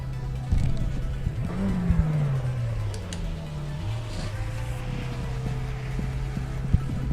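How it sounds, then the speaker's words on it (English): McLaren Senna GTR race car in the iRacing simulator, its engine droning and shifting pitch up and down as it accelerates, with a whining tone over a low hum and a few clicks, heard alongside speech. "this is the Senna, the McLaren Senna GTR, GTE."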